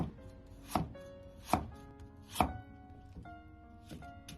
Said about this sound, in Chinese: 少许的胡萝卜先改刀切成片，